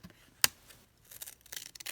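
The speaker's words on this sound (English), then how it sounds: "I'm going to grab my scissors here and just trim off this last partial hump" Scissors make one sharp snip through card paper while trimming a card layout, followed by softer rustling and handling of the paper; no one talks.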